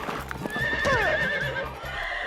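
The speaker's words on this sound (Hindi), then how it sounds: "बंटी ने घोड़े को टक्कर मारी।" A cartoon horse gives a loud, close whinny, its pitch sliding down, while steady hooves clip-clop in rhythm under it. The horse has just been hit by a car.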